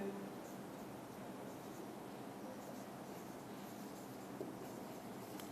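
Pen writing on paper during a maths lesson, faint continuous scratching strokes under low room noise, fairly quiet and steady.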